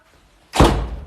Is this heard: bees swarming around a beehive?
no